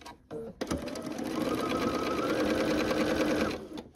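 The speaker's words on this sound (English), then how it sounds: "match the seams, just like this, and sew them together like that" Sewing machine stitching quilt pieces together: after a brief start, a steady, close mechanical whir runs continuously for several seconds before stopping.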